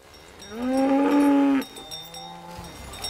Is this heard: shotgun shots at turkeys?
no